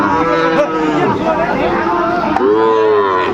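Sahiwal bull calves mooing loudly and close at a cattle market in Dinajpur, long drawn-out lowing calls that overlap one another almost without pause.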